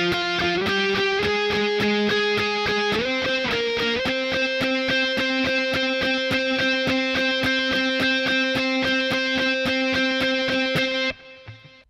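Distorted electric guitar riff played through a Boss Katana Air on its lead channel, a rock part: chugging, evenly pulsed strummed chords with a few chord changes, loud and close, ending abruptly with a short decay.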